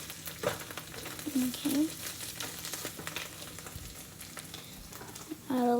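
Onion sizzles and fries in a pan with potatoes and chorizo, steady crackling broken by scraping stirs, with brief speech and a few tonal kitchen beeps near the end.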